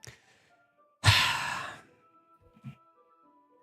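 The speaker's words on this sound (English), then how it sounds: "It sounds like breathing." A sharp breathy inhale from the video game Doki Doki Literature Club rises suddenly out of near silence, followed by faint soft breath sounds.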